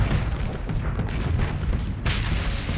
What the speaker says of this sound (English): The larger our ship is, the more devastating and larger the explosion is when you blow it up